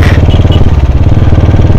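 A Royal Enfield Classic 350 Bullet with a starting problem thumps loud and close nearby, its single-cylinder beat pulsing in a steady rapid rhythm.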